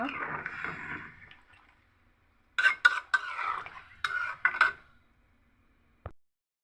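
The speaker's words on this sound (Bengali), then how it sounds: "এখন আমি দিয়ে দিচ্ছি কিছুটা পরিমাণ পানি, ভালো মতো মশলাটা কষানোর জন্য।" Water is poured into frying spices in a pot of beef cooked with moong dal, a short hissing splash followed by several sharp spoon clanks against the pot as it is stirred, ending with one last knock.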